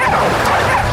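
Cartoon dog barking in a loud, continuous burst of yips and whimpers, close and dense, with faint voice-like sound underneath.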